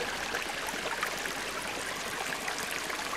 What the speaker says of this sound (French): Voilà le petit ruisseau. Ça va tout doucement. Il va au deuxième bassin.